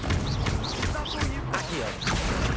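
Confringo fire spell bursting in the Hogwarts Legacy video game, a run of crashing, whooshing magical impacts with swishing spell effects over about two and a half seconds, under a player calling out spell names.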